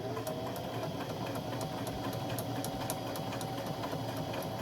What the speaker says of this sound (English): my sewing machine is right next to me. And I'm just going to run this around here.